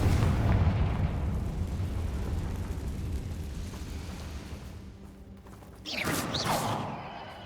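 The Confringo blasting spell goes off in Hogwarts Legacy and sets off a deep, rumbling explosion that slowly fades. Near the end a second sharp burst comes with a sweeping magical whoosh.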